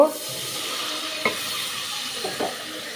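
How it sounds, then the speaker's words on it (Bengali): Spiced masala being stirred and sautéed with a splash of water in a pan, a steady soft sizzle with a few brief scraping stir strokes, close and alone. "এখন আমি আবার একটু পানি দিয়ে কষিয়ে নিব"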